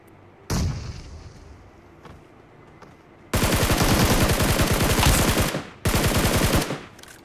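In a battle-royale shooter game, a sharp blast bursts out early, followed by long, rapid bursts of automatic gunfire. The rattling volleys are loud and close, with one short gap before the firing resumes, and no talking.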